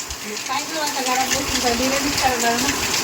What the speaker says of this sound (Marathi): भरपूर पाऊस चालू होता